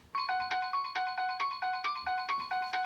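A Motion Tunes motion sensor triggered on detection plays a bright, chiming electronic melody, a quick repeating pattern of bell-like notes about twice per second, clear and fairly close with no talking.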